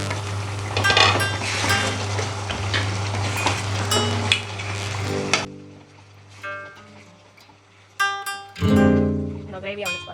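Chicken gravy being stirred in a pot, with clinks and scrapes of a spoon over a steady sizzle that cuts out midway, leaving sparse metallic taps, while a person talks throughout.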